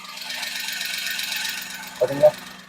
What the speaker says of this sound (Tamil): இன்ஜின் நாய்ஸ் ரொம்ப நல்லா ஸ்மூத்தா இருக்கு.